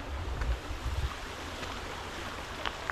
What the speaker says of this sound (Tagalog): nanggagaling yung agos ng tubig